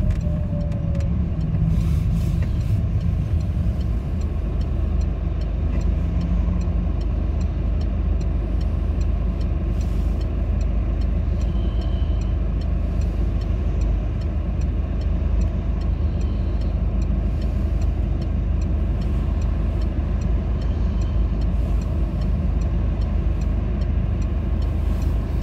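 A car engine runs steadily through the clip while driving into a storage lane in Lagny, Seine-et-Marne, dropping down through third and second gear, with the engine note shifting on the downshifts; continuous close interior rumble, no talking.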